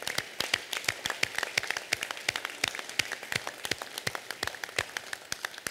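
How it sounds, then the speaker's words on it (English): Steady applause from an election-night rally crowd honoring veterans: a dense stream of sharp, crisp claps heard from a little distance, continuing evenly for several seconds with no talking. "Let's give them a round of applause."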